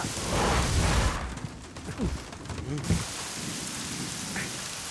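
A heavy downpour in a Hindi-dubbed South Indian action movie roars steadily with deep rumbles of thunder rolling underneath it.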